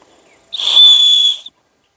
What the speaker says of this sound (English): Your chest strap is a whistle. We'll see how it works right now.